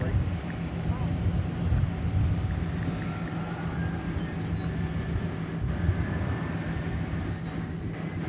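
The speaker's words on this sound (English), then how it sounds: "it's a 10-year-old Dreamliner." Ten-year-old Boeing 787 Dreamliner at Dallas Fort Worth airport, a steady low jet rumble with a faint high whine, continuous and moderately distant.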